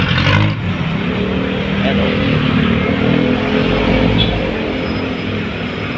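Steady road traffic on the way to Payatas, a continuous loud rumble of car engines close by with someone talking over it.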